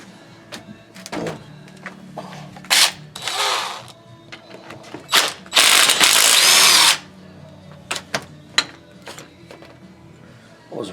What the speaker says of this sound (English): So 9/16 wrench right there, Les.